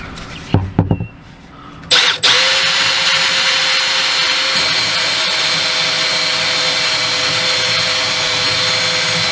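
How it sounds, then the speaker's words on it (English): A power drill bores a hole through thick plastic for a generator receptacle box, starting after a few knocks and then running as a steady, loud, close whir until the end. "So we're gonna drill a hole right there."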